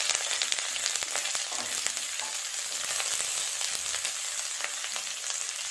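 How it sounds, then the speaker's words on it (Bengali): Bitter gourd pieces frying in hot oil in a pan, a dense, bright crackling sizzle with scattered pops, steady and close throughout. "উচ্ছেগুলো আগে একটু ভালো করে ভাজা করতে হবে"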